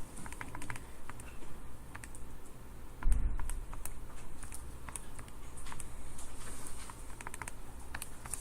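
Quiet, rapid keyboard typing patters on in irregular bursts of clicks while a math expression is entered, with one louder thump partway through and no talking.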